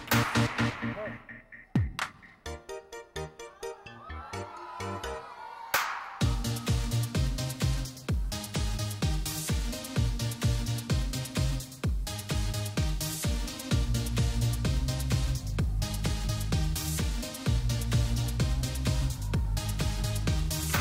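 An upbeat Tagalog pop song with a steady beat, bright instrumentation and a sung melody, playing loud and full after a brief, sparse intro.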